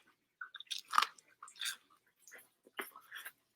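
Someone bites into crunchy fried squash, giving a string of close, irregular crisp crunches and chewing sounds separated by short pauses, with no talking.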